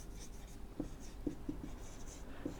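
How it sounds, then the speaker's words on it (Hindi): Quiet scratching of writing on a board during an English vocabulary lesson, with a few soft taps and strokes spaced unevenly over a faint, steady room hiss. "एक और लिखते हैं"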